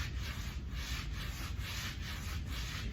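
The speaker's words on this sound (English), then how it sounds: "You can hear that weight shift back and forth" Weight shifting back and forth inside an RMT club during swings gives a soft rhythmic swishing rush, about six sweeps in three seconds, close and alone.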